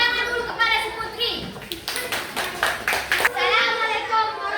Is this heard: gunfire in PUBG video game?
no